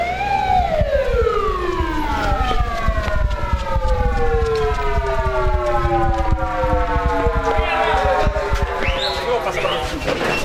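An ambulance siren wails near a hospital in Chiclayo, its long rising and falling sweeps loud and close, repeating in slow glides over steady traffic rumble.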